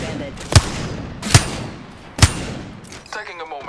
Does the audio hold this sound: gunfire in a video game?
yes